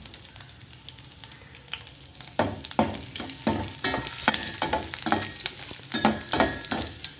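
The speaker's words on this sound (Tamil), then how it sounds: "அதில் வரமிளகாய் போடுறோம்." Dried red chillies fry with chopped ginger and garlic in hot oil after mustard seeds, for a buttermilk curry: busy crackling sizzle with repeated stirring scrapes, close and steady, no talk.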